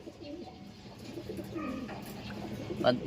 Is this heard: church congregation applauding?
no